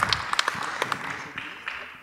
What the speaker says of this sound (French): Alors on les applaudit bien fort.